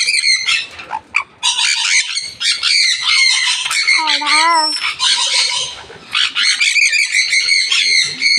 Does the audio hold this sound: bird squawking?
yes